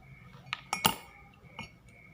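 Glass cups being handled and set down while preparing pongasi, a traditional Southeast Sulawesi drink: a few light clinks and knocks, one louder clatter near the middle, in a quiet room.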